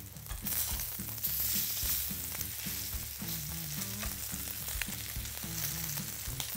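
A steak sizzles steadily in a hot pan just after flipping, a dense close crackle with a low rhythmic pulsing underneath that sounds like background music.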